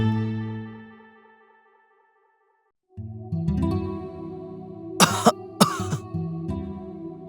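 A gasping cough sound effect in a martial-arts audiobook: two sharp, harsh cough bursts close together, set over a low, reverberant musical drone after a quiet pause.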